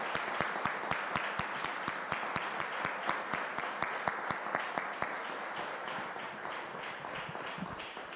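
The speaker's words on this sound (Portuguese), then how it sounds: "Vamos aplaudir ao Senhor." A church congregation at a Sunday service applauds the Lord, many hands clapping in a brisk, fairly regular rhythm, steady and moderately loud throughout.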